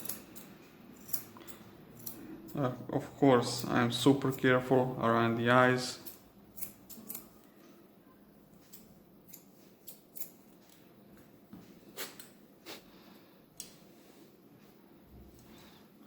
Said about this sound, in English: And take my curved scissors and